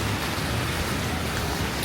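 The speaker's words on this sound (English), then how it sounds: "I ain't a big fan of this rain at all." Rain falling on a New York street near Park Avenue South, a dense steady hiss of drops on pavement, loud and close, with no talking.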